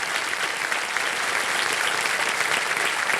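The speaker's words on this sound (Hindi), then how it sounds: "तालियां बज जाएं इनके लिए।" Studio audience of the quiz show KBC applauding, a thick, continuous roar of clapping from a large crowd, even and sustained throughout with no voices on top.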